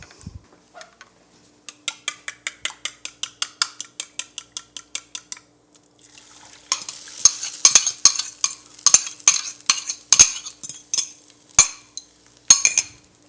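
Eggs swirled in hot oil for shrimp fried rice, giving a steady run of rapid metallic clinks and scrapes of a utensil against the pan, first in an even rhythm, then a busier, sizzling stretch of irregular clatters, close and fairly loud.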